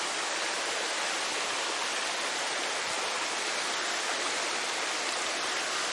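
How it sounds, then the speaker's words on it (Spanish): Steady, dense rush of falling water at the base of the Lágrima del Indio waterfall in Córdoba, a continuous broadband roar close by with no voices. "está el final de la cascada que les mostraba recién"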